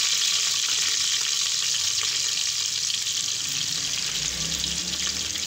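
Garlic ginger paste and tomatoes fry in a pan for a kidney bean curry, giving a steady, close hiss and sizzle that holds even throughout with faint crackles and no talking.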